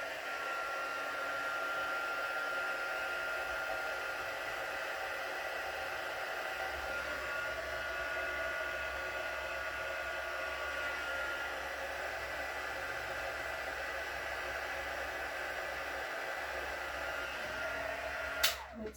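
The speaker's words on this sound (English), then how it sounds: "I might have to just use the heat gun" A heat gun blows hot air during a craft session, a steady, loud broadband whoosh that runs continuously for the whole stretch, with a faint low hum underneath and a brief knock near the end.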